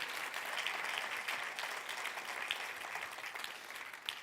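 A church congregation claps together in sustained applause, a dense crackling patter of many hands at moderate distance that holds steady and then gradually thins.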